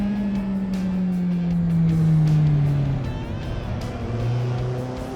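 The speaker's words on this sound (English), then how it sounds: "I can hear a bit more tire squeal, bit more speed being carried" Car on the original Top Gear test track, braking hard toward the Hammerhead corner: a loud, steady engine drone with rising and falling pitch as the tires squeal under heavy speed, close and continuous with no talk.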